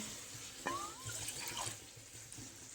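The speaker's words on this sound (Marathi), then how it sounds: "आपल्याला जेवढी करायची तेवढी टाकूया पाणी" Water added to toor dal simmering in an iron pan, a soft pour and gentle splashing heard faintly and close, with no talk over it.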